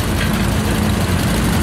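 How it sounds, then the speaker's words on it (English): A 1920 Samson Model M tractor built by General Motors runs in a steam and gas show parade, its engine chugging loud and close in a steady unbroken drone with no one talking. "here we have the Beck family driving the 1920 Samson Model M, built by the General Motors Corporation"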